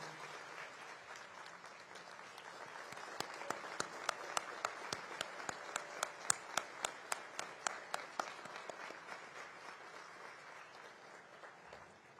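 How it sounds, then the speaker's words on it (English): Applause fills a convocation hall at IIT Madras, a broad wash of many hands with a run of sharp, regular louder claps standing out in the middle, heard from some distance. "with a great round of applause and a standing ovation"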